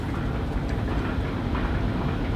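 A cable car arrives in the video game Resident Evil 4 with a continuous low mechanical rumble and rattling hum, steady and close throughout with no talking.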